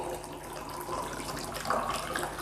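Water of 11.5 pH Kangen type pours steadily onto rice in a container at home, a continuous close splashing trickle with no talk.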